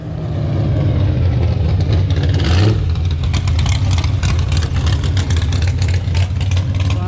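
An old Ford LTD car's engine runs steadily and loudly for the whole stretch, a constant low rumble with a brief swell in revs near the start, with no talking.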